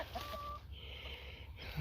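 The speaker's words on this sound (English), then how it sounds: "So I found the chickens." Chickens deep in the woods give soft, scattered clucks close by in a quiet outdoor setting, with no voices.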